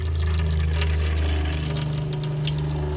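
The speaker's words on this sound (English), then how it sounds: "Alright, turn on my water pump. I can hear it." An electric water pump in a 2002 Roadtrek 190 Class B camper van hums steadily as it pushes pink RV antifreeze through the water lines, a loud continuous drone with watery rushing over it.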